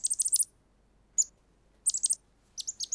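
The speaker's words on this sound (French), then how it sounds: "D'où vient ce petit oiseau?" A small bird in a children's cartoon chirps in quick bright bursts of high tweets, several in a row, then a single call, then more clusters, alone over near silence.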